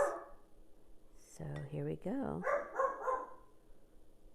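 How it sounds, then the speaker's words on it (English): A pet dog barking and yipping indoors in a home kitchen, a few short barks after a brief murmured phrase, moderately close with quiet moments between. "And that's my dog."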